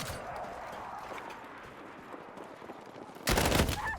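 Shotgun fire in Battlefield 6: after a stretch of quiet game ambience, a single loud, sharp blast lands near the end and is followed by a lingering rumble.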